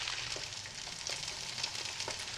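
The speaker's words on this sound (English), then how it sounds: "Looks like a frying pan and some eggs to me." Eggs fry in a frying pan in a film scene, a faint, steady sizzle with soft crackles and occasional pops.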